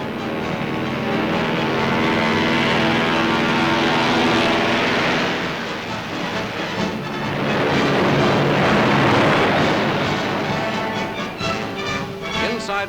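Douglas DC-6 four-engine propeller airliner taking off, a loud, steady droning roar of piston engines and propellers that swells in the middle and holds throughout.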